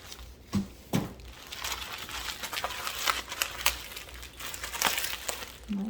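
A mailed package holding a painting is opened with crinkling and tearing of its wrapping, irregular close rustles and a few sharp crackles over a soft background.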